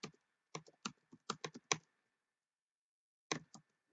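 Bursts of keystrokes on a computer keyboard during a Shell Shock gaming session, several quick clusters of clicky taps, a long pause, then a final short burst, close and alone.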